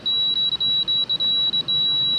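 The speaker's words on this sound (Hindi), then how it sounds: "अब दोनों सुइयों को आपस में मैं मिलाता हूँ तो ये बीप की आवाज़ देगा, ये आप सुन रहे हैं।" A steady high-pitched continuity beep from a multimeter as its two probes touch, used while checking a window air conditioner thermostat; the tone sounds continuously at close range with a few brief dropouts and no talking.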